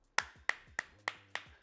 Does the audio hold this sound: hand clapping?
yes